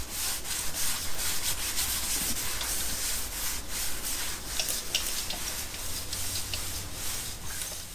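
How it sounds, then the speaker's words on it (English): A rental paint roller is rubbed back and forth across a camper van floor, giving a continuous, close scrubbing and rasping sound with rhythmic strokes and no talk. "And we're really just going to soak this up and just start rubbing this roller off."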